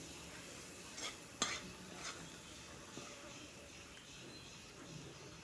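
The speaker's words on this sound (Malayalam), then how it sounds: "ഇതൊന്നേ ആ വെളിച്ചെണ്ണയിലൊന്ന് മൂപ്പിച്ചെടുക്കാം." Ground chilli and coriander powder fry quietly in coconut oil, giving a faint, steady sizzle broken by a few sharp spoon scrapes and clinks against the pan as it is stirred.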